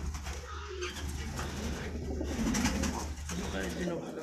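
Crested Shiraji fancy pigeons coo softly and continuously at a breeding farm, a steady low murmuring close by with faint background noise throughout.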